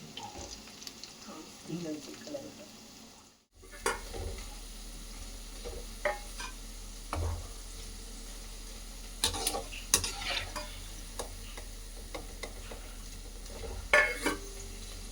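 Wheat onion pakoda frying in hot oil gives a steady crackling sizzle with scattered sharp clinks from stirring. The sizzle cuts out briefly near the start, then carries on evenly.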